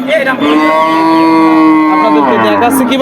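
A cow moos once, long, loud and close, at a village cattle market selling dry cows for fattening in Purapara, Bangladesh. The bellow holds for nearly three seconds with faint crowd murmur behind.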